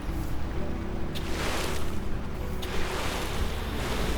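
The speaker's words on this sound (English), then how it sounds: "But it is raining" Steady broadband rain hiss over a low rumble in the Lightyear Frontier farming game, continuous and fairly loud throughout with no talk.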